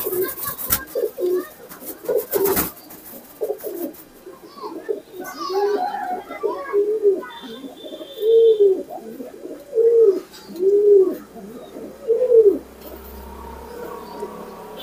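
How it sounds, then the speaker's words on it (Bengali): Pigeons cooing in a loft, a series of close, repeated low throaty coos in a steady rhythm, with a sharp clatter early on and faint background voices. "তা এই একটা ভালো কবুতর আমি দেখালাম, আরো কিছু কবুতর আমার ভিতরে আছে আমি আপনাদেরকে দেখাবো"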